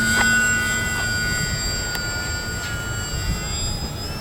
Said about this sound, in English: We're going to take off, and as always, we're not going to climb too fast.